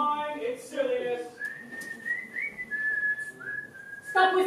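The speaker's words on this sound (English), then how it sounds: "Stop whistling" A person whistles a wavering melody in a dramatic stage scene, a few sliding phrases up close, with short bits of speech at the start and end.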